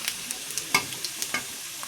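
Cumin seeds crackle in hot oil, a continuous light sizzle broken by small irregular pops and stirring taps, close and moderately loud with no voices.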